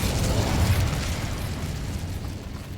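An Incendio fire spell bursts in Hogwarts Legacy, a loud, low rumbling explosion that swells at the start and rolls on as a fading roar of flame for a couple of seconds.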